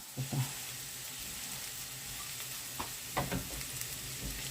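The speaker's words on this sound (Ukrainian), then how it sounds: "Ось так гарненько підсмажила, зробила з прозора." Carrot and onion sizzle steadily while frying in a pan, with a continuous crackle and a few louder spits and stirring bumps, close and alone without talk.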